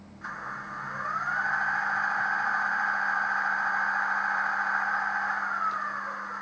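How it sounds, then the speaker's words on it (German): The air compressor sound effect of a Fleischmann H0 BR 141 DB AG digital sound electric locomotive model fades in and then runs as a steady droning hum for several seconds before easing off, with no talking. "F5 ist der Kompressor."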